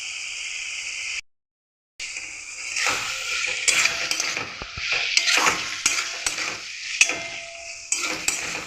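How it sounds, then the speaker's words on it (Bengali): Turmeric and Kashmiri chili powder sizzle as they are stirred and sautéed in a pan, with a steady frying hiss and repeated scraping strokes of a utensil, close and continuous, with one brief gap of silence. "এটাকে এবার আমি ভালো করে কষিয়ে নেব।"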